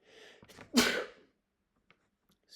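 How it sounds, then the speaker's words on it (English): A single loud sneeze with a quick sharp inhale before it, close up, followed by near silence. "I'm going to sneeze."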